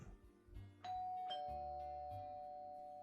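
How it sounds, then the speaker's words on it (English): Doorbell chimes two clear ding-dong tones close by, the second note ringing out and slowly fading in a quiet indoor room. "The bell rang again."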